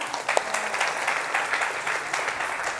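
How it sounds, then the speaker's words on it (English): An audience at a Wonderland 2023 talk on the brain applauds, a dense, steady patter of many hands clapping together, moderately loud and even throughout, with no speech over it. "Give yourselves a round of applause."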